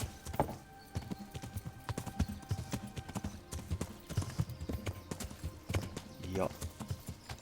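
Rhythmic hoof clip-clops of a horse walking nearby in the video game Kingdom Come: Deliverance, steady and fairly loud, with people talking intermittently over them.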